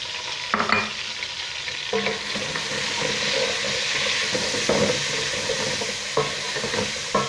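Tomatoes go into a pot of frying onions for Sindhi fish pulao, giving a steady sizzle with spoon scrapes and clunks of stirring recurring through it, close by and with no talking.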